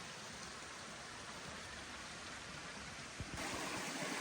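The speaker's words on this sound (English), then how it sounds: "I hear water down through there." A forest stream flowing in a state forest, a steady, even rush of water close by, heard alone with no voices.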